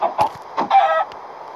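A Minecraft chicken clucks in several short, close bursts, loud and clear with no talk over it.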